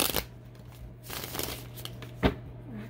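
Tarot cards are shuffled in a few separate bursts of riffling and sliding, close and fairly soft over a steady low hum, with one sharper snap near the end.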